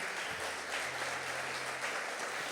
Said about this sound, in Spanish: Denle el aplauso al Señor por eso.